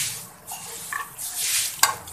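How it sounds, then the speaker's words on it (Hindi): Cumin and whole dried coriander seeds sizzle in hot oil for a tempering, a steady close crackle with light stirring and a brief clink of a utensil against the pan. "अब मैं इसमें डालूंगी 1 टीस्पून के करीब जीरा और 1 टीस्पून इसमें डालूंगी साबुत सूखा धनिया।"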